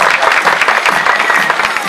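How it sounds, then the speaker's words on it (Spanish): Dense audience applause fills a rural peasant-day celebration in Barro Blanco, Yolombó, with steady overlapping claps, loud and close, and no talk over it. "¡A ver ese aplauso!"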